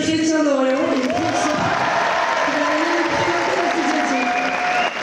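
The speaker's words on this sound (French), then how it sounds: "nous vous demandons un tonnerre d'applaudissements" Dense, steady applause from an audience at an evening event, with some cheering voices mixed into the continuous clapping for about five seconds.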